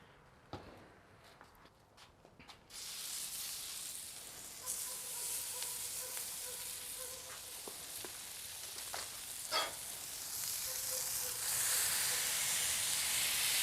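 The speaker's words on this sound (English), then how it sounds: "let's go ahead and get these burgers started here" Burgers hit an oiled hot griddle with a sudden loud hiss that settles into a steady, close sizzle, building louder toward the end, with a few clicks and knocks of handling before the frying starts.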